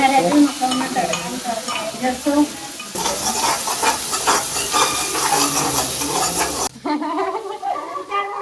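Tadka of spices hitting hot oil in a home kitchen, a loud steady sizzle and crackle running throughout, swelling to a dense hiss midway before easing off, with stirring clatter underneath and a voice talking faintly over it.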